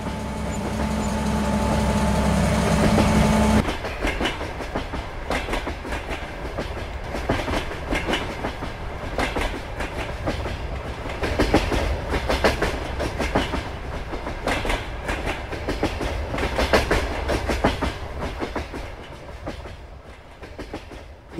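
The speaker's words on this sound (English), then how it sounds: "that train comes past, it is excruciatingly loud" In the farming game Farming Simulator 22, a train rolls past very loudly, opening with a deep horn-like drone, then a long run of rhythmic clickety-clack wheel beats that slowly fade, no voices.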